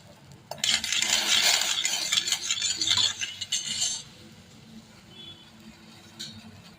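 Sugar and a little water stirred in a wok with a metal spoon, a burst of busy scraping and clinking from about half a second to four seconds, then near quiet with a faint clink near the end.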